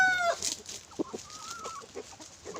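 Native Philippine chickens cluck in short, irregular bursts close by, with a higher squawking call near the start and soft scratchy farmyard background.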